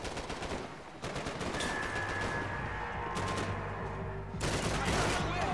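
Heavy gunfire from above in Max Payne 3: dense automatic bursts and rattling volleys crackle loudly, pausing briefly before another close, intense barrage.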